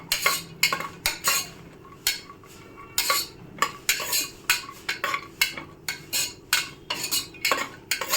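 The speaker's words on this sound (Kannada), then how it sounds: "ಮತ್ತು ದ್ರಾಕ್ಷಿ ಎರಡನ್ನೂ ಹಾಕಿ ಇದರಲ್ಲೀಗ ಫ್ರೈ ಮಾಡ್ಕೊಳ್ಳೋಣ." Cashew pieces and raisins stirred in ghee in a pan on medium heat: a spoon clinks and scrapes in a quick, regular rhythm, close and clear, with almost no sizzle beneath.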